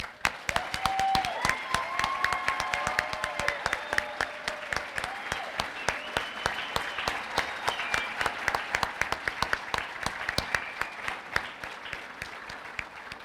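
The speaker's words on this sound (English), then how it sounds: "let's give one last resounding applause to all of our honorees this evening" At an industry awards celebration, the audience gives a long, sustained round of applause for the honorees, dense, steady clapping heard from a distance at moderate volume.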